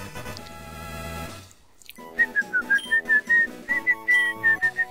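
A person whistles a quick string of short, clipped notes that rise and fall, close and clear, after a brief stretch of game music that fades out.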